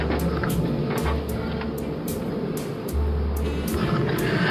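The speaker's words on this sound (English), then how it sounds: "Truck sounds awesome with the headers on it" A 1975 Ford F100 truck engine idling with new headers fitted, a deep, loud rumble with a lumpy, pulsing rhythm and periodic surges in the low end, heard alone.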